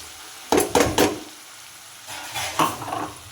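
A spoon stirs freshly ground spice powder into ridge gourd curry with tomato in a pan. Three quick scraping strokes come first, then a pause, then a looser run of scraping and clinks against the pan.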